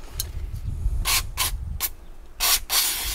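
Mass airflow sensor cleaner sprays onto the MAF sensor of a Seat Leon in several short hissing bursts of differing length, close to the microphone, with two longer squirts near the end.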